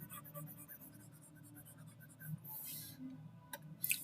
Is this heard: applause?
no